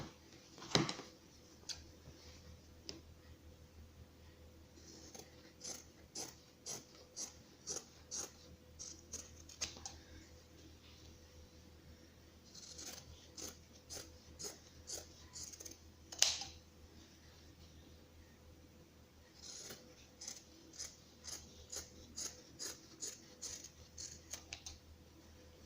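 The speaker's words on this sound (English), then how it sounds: "What's left here, I'm gonna cut it out with my scissors" Scissors snip through fabric for an embroidered mushroom appliqué, a quiet close series of crisp clicking cuts in quick clusters with short pauses between them.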